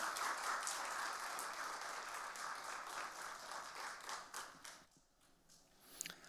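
A church congregation claps in welcome for the pastor, a sustained, fairly distant round of applause that gradually tapers off, with a few scattered claps near the end.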